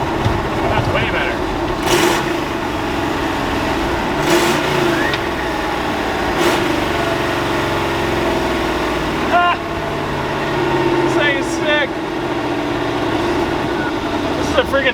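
A 1986 Ford F250 stock truck with a custom exhaust idles with a deep, steady rumble and is blipped into several sharp, loud revs spaced through the run, while people talk nearby.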